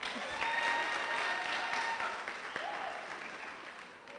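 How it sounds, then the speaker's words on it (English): Audience applause for the contestants at the Miss Zambia 2020 grand finale pageant, a steady wash of clapping heard from a distance that slowly tapers off, with faint tones and crowd noise mixed in. "So I would like to applaud you girls for a great job done."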